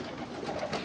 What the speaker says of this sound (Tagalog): Mga kalapati ni sa silingan